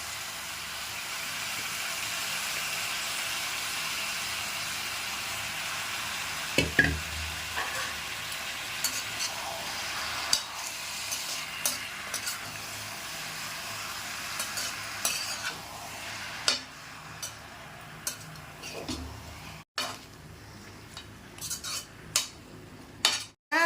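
A kilo of large chicken pieces sautés in a pan, a constant sizzle underneath repeated stirring, with scraping and metallic clanks of a spoon against the pan that grow sharper and more frequent toward the end.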